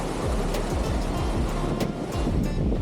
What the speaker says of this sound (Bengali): এখানে এই জলগুলো দেখতে পাওয়া যাচ্ছে, প্রচুর স্রোতে জল এসে এখানে একত্রিত হচ্ছে।